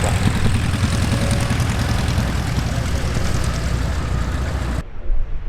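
A high-wing propeller airplane on short final at EAA AirVenture Oshkosh 2019 drones loudly and steadily, with engine noise nearby that then cuts sharply to a quieter rumble.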